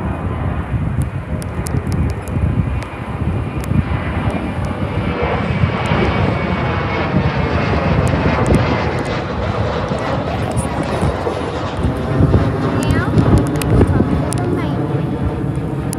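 Airliner jet engines roar at an airport as an Airbus readies for takeoff. A loud, sustained rumbling whine fills the whole stretch, with wind buffeting the microphone and a voice murmuring faintly underneath.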